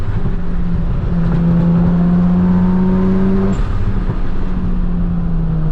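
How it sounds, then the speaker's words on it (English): A car drives past an RX7, its engine drone rising as it nears and then falling away, with a steady pitch glide and a loud close pass followed by a fading tail; no talk. "Another car."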